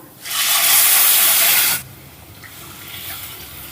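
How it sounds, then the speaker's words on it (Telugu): Water is poured from a cup into a pan of fried moong dal for sabudana payasam, a loud steady rushing splash lasting over a second and a half, then stopping abruptly, leaving quiet kitchen background. "అదే కప్పుతో మూడు కప్పులు వాటర్ కూడా పోసుకుందాం"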